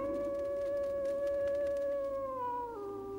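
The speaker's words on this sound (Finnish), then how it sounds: "Kuuletteko? Se ulvoo." A long, sustained howl from a dog or wolf in an animated adventure, one steady wavering tone that slowly drops in pitch near the end, clear and resonant over a faint background.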